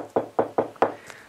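Four crisp knocks on wood for luck in a quiet radio studio, evenly spaced and close, with a fainter fifth tap trailing off at the end.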